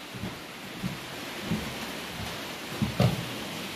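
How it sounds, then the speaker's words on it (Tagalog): Heavy rain pours steadily in a rainy Mindanao afternoon, a dense hiss with low thunder rumbles rolling in at intervals, the strongest one near the end. "napakaulan talaga."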